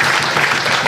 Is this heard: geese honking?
no